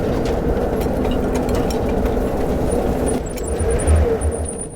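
Engine-powered winch reeling in rope, a steady low mechanical drone and rumble that swells slightly toward the end, heard alone without talk.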